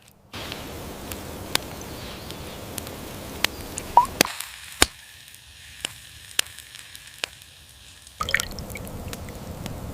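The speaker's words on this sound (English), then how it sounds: "I'm slowly drizzling the golden olive oil into the wild flour" Olive oil drizzles and drips into flour outdoors, with scattered soft ticks and pops over a quiet hiss, close up, no voices.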